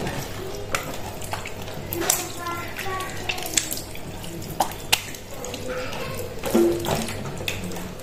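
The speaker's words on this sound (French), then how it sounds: "Me laver les mains." Tap water runs into a sink during handwashing, a steady close splash broken by drips, clinks and handling sounds, with no talking.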